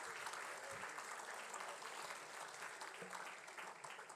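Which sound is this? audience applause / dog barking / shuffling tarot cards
audience applause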